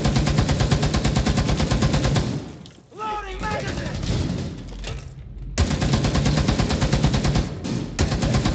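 Rapid machine gun fire in a tactical shooter video game, dense and loud, running in two long sustained bursts with a short break between them where other game sounds come through.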